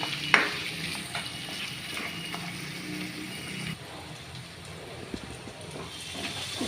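Onion and tomato frying with salt in a pan for kakarakaya pulusu, a bitter gourd tamarind curry, a steady close sizzle with a sharp clink at the start and occasional stirring scrapes, no talk.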